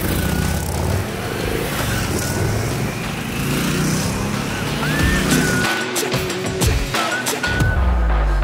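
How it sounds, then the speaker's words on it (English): Harley-Davidson Sportster S motorcycle riding on a track, a loud continuous engine drone with rising and falling revs and a few short tire squeals near the end, heard alone without speech. "I'll be riding this Sportster S on the track."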